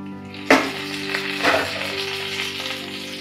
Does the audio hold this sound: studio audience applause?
no